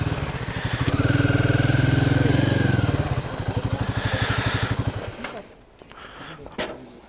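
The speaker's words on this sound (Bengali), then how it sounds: "বাইকটা পার্ক করে দিই এখানে।" A motorcycle on a Kolkata-to-Ladakh road trip idles steadily with a low throbbing engine while being parked at a hotel in Padum, then cuts out, leaving quiet with faint knocks.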